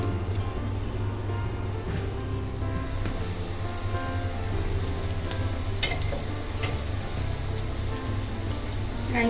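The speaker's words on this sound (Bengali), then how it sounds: "এটাকে মাঝে মাঝে ঢাকনাটা খুলে আমরা এটাকে একবার করে নাড়িয়ে দেব যাতে নিচ থেকে এটা লেগে না যায়" Egg fried rice sizzles in a pan, a constant dense crackle like rain on a surface, close and even in level, with light scraping and stirring sounds toward the end and no voices.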